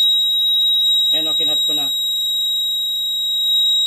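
A steady high-pitched alarm buzzer, triggered by cutting an alarm circuit wire, sounds continuously throughout, with someone speaking briefly over it.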